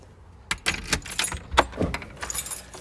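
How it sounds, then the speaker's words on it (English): A bunch of keys to a neighbour's house jangles near the front door, bright metallic clinks in short uneven bursts, close and fairly loud, with no talk. "I've got the keys to my neighbour's house."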